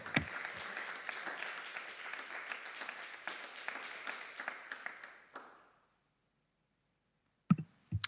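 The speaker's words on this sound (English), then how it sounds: "Applause." Applause at a graduation ceremony for an early music program, a steady crowd clapping for about five seconds before fading out, followed by silence and a couple of sharp taps.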